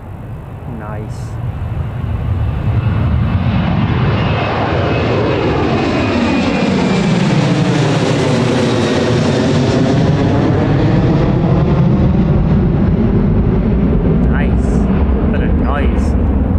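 An aircraft passes at Newcastle Airport with a loud, sustained engine roar. It rises over the first two seconds and holds heavy for the rest of the clip, while the pitch sweeps as the plane goes by.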